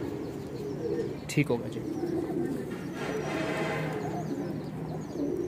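Weshi female pigeons coo softly through steady background noise, with a brief sharp knock early on and someone speaking briefly.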